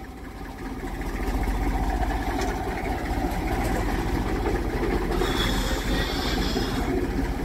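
An old Massey Ferguson 35 tractor with its engine running, a steady low mechanical rumble that holds at a constant level throughout, close by and alone, with a faint higher hiss entering near the end.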